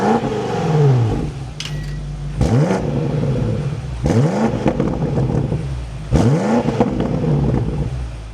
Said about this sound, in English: let's fire this up now and take a listen to the V8